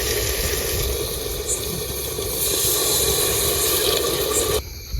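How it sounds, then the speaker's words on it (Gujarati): Water poured into a pressure cooker holding fresh pigeon peas and tomato, a steady close splashing and trickling fill for several seconds that cuts off abruptly near the end. "આપણે પાણી નાખી દઈશું."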